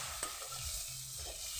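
Fried spice paste for a Bengali morola fish curry with hagra stalks being stirred in a pan after a splash of water, giving a soft continuous sizzle with faint scraping strokes, close and steady, no talking.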